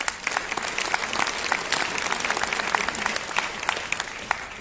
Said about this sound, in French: je vais vous demander de les applaudir très très fort